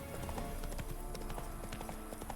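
Roach, a horse in The Witcher 3: Wild Hunt, gallops in a quick, steady clip-clop of hooves close by, faintly mixed with game ambience.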